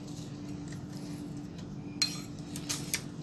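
A spoon stirs rice powder and green tea into a soap mixture in a small bowl, soft scraping and light clinks of metal on the dish, close and fairly quiet over a steady background hum.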